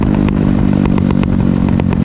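A Bajaj Pulsar motorcycle fitted with an Akrapovic exhaust, dB killer removed, idles loudly close by with a rapid, uneven burble and sharp crackling backfire pops.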